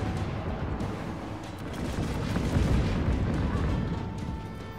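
Explosions in the video game Just Cause 3, a continuous rumbling wash of heavy booms and blasts with crackling debris, low and dense throughout, with a voice speaking over it.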